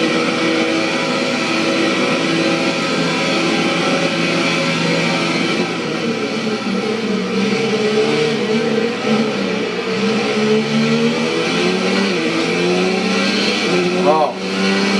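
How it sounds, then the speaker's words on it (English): Formula One car engine from F1 2019 on Xbox One, racing Gasly's car at the French Grand Prix: a loud, continuous high engine whine that rises and falls with gear changes and throttle through the whole stretch, with talk over it. "when it's the first lap, your engine's trying to get going"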